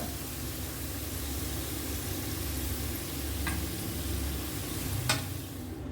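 Garlic fries in hot oil for a prawn pickle with a dense, continuous sizzle close by. Two brief scraping stirs break through near the end, and no one speaks.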